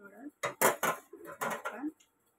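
A metal lid lands on a pot of cooking chicken noodles, a few short clanks of cookware heard beside close, clear talking.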